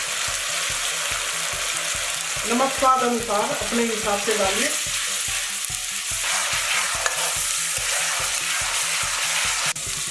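Steady sizzling of garlic, onion and ginger frying in hot oil with occasional stirring scrapes; someone speaks briefly over the crackle partway through.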